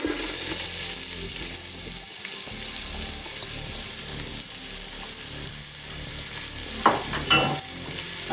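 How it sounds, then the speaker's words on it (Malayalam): Ginger frying in hot coconut oil, a steady broadband sizzle that holds for several seconds, with a few brief scraping stirs and clinks near the end, close and moderately loud. "അപ്പോൾ നമ്മുടെ എണ്ണ ചൂടായി വന്നിട്ടുണ്ട്. അതിലേക്ക് നമ്മൾ ഇഞ്ചി ഇട്ട് കൊടുക്കുകയാണ്."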